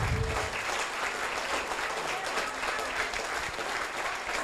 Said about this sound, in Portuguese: Um aplauso para Jesus nesta noite.